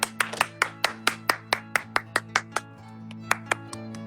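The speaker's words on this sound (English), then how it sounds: "Keep clapping and applauding for Jocelyn." Sharp hand claps ring out in a steady run of about fifteen, with a steady hum underneath and a short gap before a few final claps, as a small crowd applauds at a Women's Month celebration.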